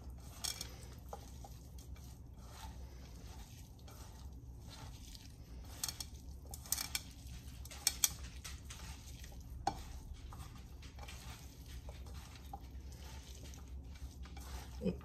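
Mung bean sprout achar being mixed in a bowl: soft, quiet stirring and scraping with light clicks of a spoon against the dish, plus faint occasional taps over a low background hum.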